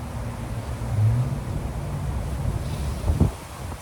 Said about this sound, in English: You'll probably hear the wind.